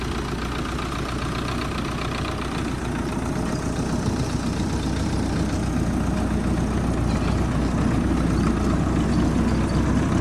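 A tractor's diesel engine runs steadily in third gear with no load, a loud continuous low rumble with rhythmic chugging throughout, close by and without talk.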